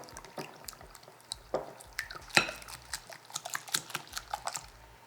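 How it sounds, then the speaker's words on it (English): A whisk clatters against a bowl while two eggs are beaten into mango puree, making quick, uneven ticking and tapping strokes up close, with a few sharper knocks and no talking. "Just going to crack 2 eggs into the mango. I'm going to whisk this together."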